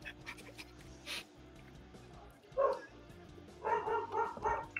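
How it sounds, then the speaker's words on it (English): Dogs bark in a few short bursts, one sharp yap followed by a quick run of three or four barks, fairly close indoors over a low background hum. "Shut up, dogs."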